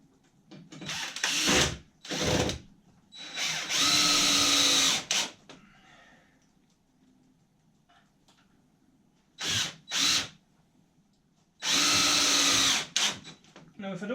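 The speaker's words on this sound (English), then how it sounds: "Put this here and we'll whack a couple of screws in." A power drill drives screws into a wall bracket in several loud, close bursts of whirring, with pauses between them where a voice speaks.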